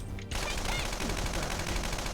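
Guns fire in the video game Persona 5 as a continuous, rapid stream of loud shots, steady and unbroken through the whole stretch.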